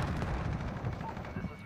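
Rapid AK74u gunfire in a first-person shooter, a steady loud burst of automatic shots running throughout.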